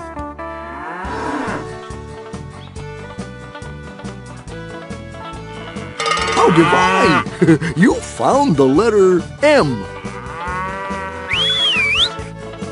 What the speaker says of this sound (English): just look at those cows go!